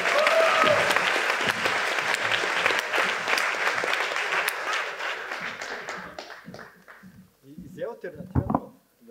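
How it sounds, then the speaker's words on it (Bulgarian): Loud applause from an audience with dense clapping that gradually thins and fades, followed by a few scattered claps and faint voices near the end. "Хора, бърни аплодисменти за Устата."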